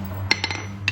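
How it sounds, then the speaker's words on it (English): Three or four sharp metallic taps ring out as a hammer strikes a screwdriver against the open end of a Coleman CT200U mini bike chain link, spaced irregularly over a steady low hum. "take a screwdriver on the open end of it and pop it with a hammer"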